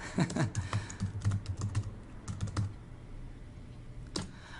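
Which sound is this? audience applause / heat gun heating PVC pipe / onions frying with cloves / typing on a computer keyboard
typing on a computer keyboard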